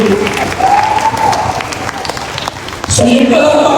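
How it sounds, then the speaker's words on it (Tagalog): A congregation claps at a Sunday church service, steady crowd applause mixed with voices and tonal sound, swelling louder near the end. "So yung palakpak nyo"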